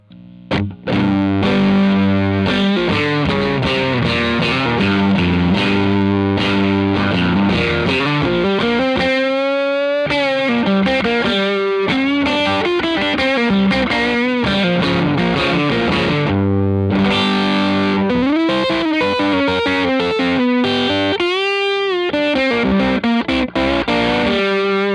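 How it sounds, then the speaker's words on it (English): Electric guitar through a Vincent channel-switching tube amp turned fully up, giving a dark, woolly fuzz distortion on loud sustained chords and melodic lines, played continuously and alone. "if you turn it all the way up, it gets kind of darker and woolly, like a fuzz"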